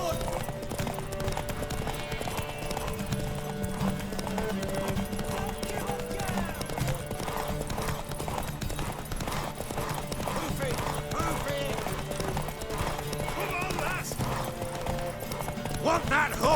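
Horse hooves clip-clop at a steady running rhythm in The Witcher 3, with occasional whinnies, set against a constant musical score and spoken dialogue.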